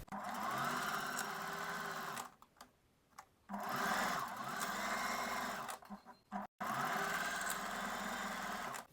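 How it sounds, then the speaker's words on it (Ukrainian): Sewing machine stitching a bra strap, a close, loud, rapid mechanical whir in three bursts separated by brief pauses. "Тепер на машинці я пришию бретельку."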